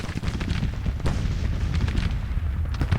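Cannon fire from Civil War artillery batteries dueling on a strategy-game battlefield at Aquia Harbour, a steady rumble of overlapping low booms and distant thuds rolling continuously for the whole stretch, with no voices.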